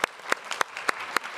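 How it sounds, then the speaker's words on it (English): Audience at a conference session on sustainably managed forests and biodiversity claps for the speakers and panelists, with a short run of fairly steady, separate-sounding claps spaced every fraction of a second. "give a round of applause to all our speakers and panelists, keynote speakers"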